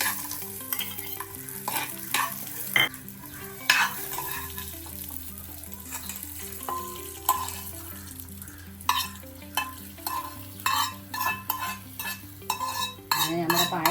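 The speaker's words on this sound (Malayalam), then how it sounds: "തേങ്ങക്കൊത്തൊക്കെ നല്ലോണം ഇതാ എണ്ണയിൽ മൂപ്പിച്ചിട്ടുണ്ട്" Coconut pieces, cashews and raisins fry in oil for Onam parippu payasam: a soft, continuous sizzle broken by repeated spoon scrapes and clinks against the pan, with steady tones underneath and no speech.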